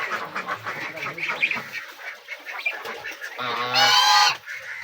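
Ducks on an integrated farm honking and quacking nearby in repeated bursts, ending in a loud raucous honking chorus, with a person talking in between.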